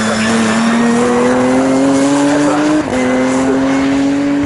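An Aston Martin Vulcan race car at Snetterton circuit roars past loud and close, its engine tone climbing steadily before a quick gear change and renewed pull, with a hint of tire squeal.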